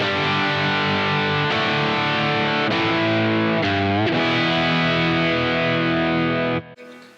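A heavily distorted Stratocaster electric guitar with a roasted ash body rings out on its bridge pickup through an amp with flat EQ, sustained chords, bright and gritty with a touch of reverb, before cutting off abruptly.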